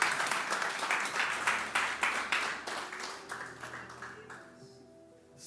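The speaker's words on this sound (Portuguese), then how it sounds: "As palmas para o Senhor." A church service congregation claps in a burst of applause that starts strong, then thins and fades to scattered claps before dying away.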